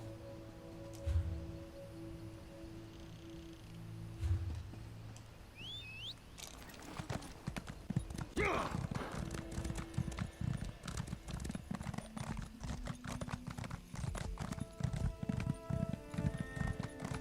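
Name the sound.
horse hooves clip-clopping while riding, in The Elder Scrolls Online video game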